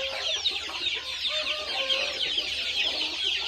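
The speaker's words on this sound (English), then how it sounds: "Got jungle fowl there." Jungle fowl cluck steadily close by, a continuous chatter of overlapping clucks and soft calls from several birds in a farm pen.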